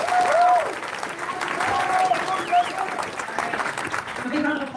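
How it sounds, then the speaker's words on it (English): Audience applause for a student political review group fills a room, steady clapping mixed with crowd murmur and overlapping talking voices throughout. "A big round of applause for the CSU Political Review"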